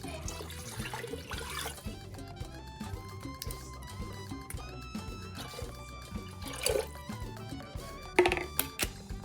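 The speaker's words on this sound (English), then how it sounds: "And I'm gonna add in some orange juice." Orange juice pours into a mixture of sugar, rum and water, a continuous close splashing and trickling of liquid, with light clinks and clatter near the end.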